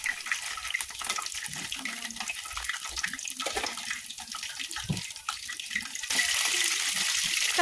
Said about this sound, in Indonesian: Lalu goreng di minyak panas.